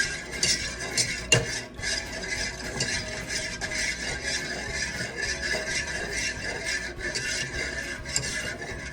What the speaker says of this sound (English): if you want your sauce to come out right, don't stop stirring